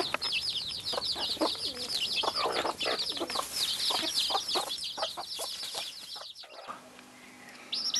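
Small organic chicks peep and cheep in fast, high bursts from close by, with soft clucking of poultry mixed in, ranging free in a garden; the busy calls run almost without pause, then thin out near the end.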